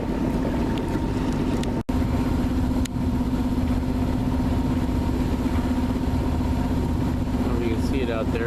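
Sailboat motoring at about five knots on autopilot with the engine on and sails up, giving a steady low engine hum under continuous wind and water rush, with a brief dropout partway through.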